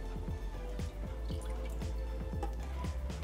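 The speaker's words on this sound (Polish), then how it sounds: "więc 3 takie miarki wlewamy do garnka mleka." Milk poured into a cooking pot for hot chocolate, heard as a close run of soft splashing drips and trickles at an uneven rhythm, fairly quiet, with no talking.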